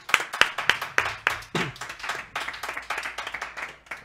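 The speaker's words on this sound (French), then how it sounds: "On peut l'applaudir." Studio audience applauding a guest at a televised debate show, dense irregular hand claps building into steady applause, close and fairly loud with no talk over it.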